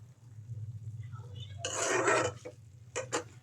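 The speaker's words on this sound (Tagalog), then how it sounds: "Pagkatapos natin ilagay ang ating sotanghon, ito po ay atin munang hahalu-haluin." Glass noodles (sotanghon) with vegetables and banana heart being stirred in a cooking pot, a soft wet scraping and clinking of a utensil against metal, close and quiet, with a couple of short knocks at the end.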